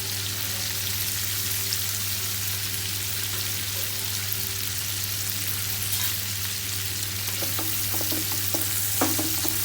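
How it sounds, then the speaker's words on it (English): Sliced sali potato straws fried in small batches in oil and butter in a pan, giving a steady, close sizzle with light crackles and occasional stirring taps near the end. "So this we will add into our pan and fry it."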